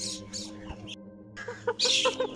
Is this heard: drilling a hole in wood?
no